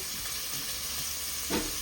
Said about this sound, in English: It's all frying there.